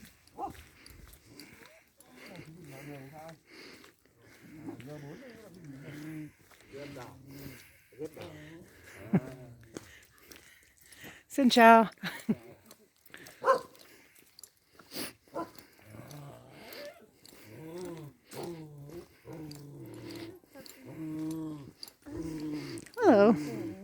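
A puppy kept as a guard dog in a Dzao village in Ha Giang province, Vietnam, gives a few short barks or yelps amid steady nearby talking outdoors.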